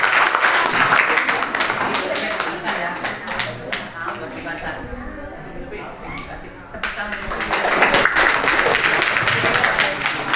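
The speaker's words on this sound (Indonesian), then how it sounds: "tepuk tangan buat Gali" A crowd claps for a child named Gali during an Islamic religious talk, loud applause that thins briefly in the middle before swelling back, with voices audible underneath.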